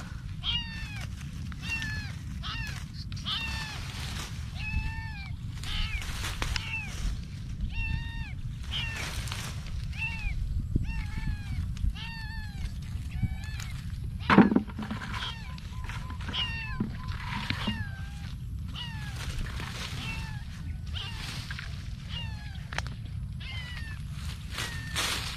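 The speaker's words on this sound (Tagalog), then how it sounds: "Maingay, naiyak ng pusa." A cat meows repeatedly, fairly close, in short regular calls throughout, over a steady low background rumble with a brief knock partway through.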